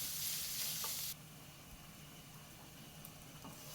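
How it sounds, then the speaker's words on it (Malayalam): Carrots and onion are sautéed in a pan while an egg macaroni dish is cooked. A loud hiss in the first second drops to a quieter, steady sizzle with faint stirring clicks. "ഇനി ഈ ക്യാരറ്റും കൂടെ നല്ലതുപോലെ ഒന്ന് വഴറ്റിയെടുക്കാം."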